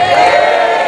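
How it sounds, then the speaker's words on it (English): A live audience cheers and whoops in a short, loud burst of crowd noise at a compered show at Beacon Margate. "So give us a cheer if you enjoyed that."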